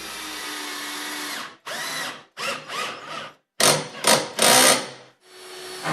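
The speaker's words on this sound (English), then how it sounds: "Drive a wood screw through the frames, holding the cabinets firmly together." A power drill driving wood screws through cabinet face frames whirs in several bursts, each rising and stopping in turn, with short pauses between them, close and loud.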